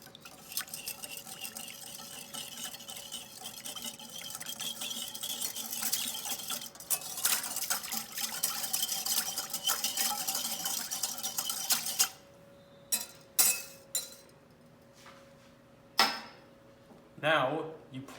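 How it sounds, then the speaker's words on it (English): A whisk beats ingredients in a bowl in a home kitchen, a steady close scraping and swishing for about twelve seconds, then several separate clinks and taps of utensils against dishes. "we'll use whisking all the ingredients that are in the bowl together using a whisk"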